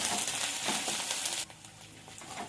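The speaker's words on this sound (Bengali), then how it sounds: "রসুনটা একটু তেলে ভাজা ভাজা করে নেবো" Garlic sizzles and hisses steadily in hot oil in a pan where onions have been frying, loud at first, then dropping sharply to a quieter crackle.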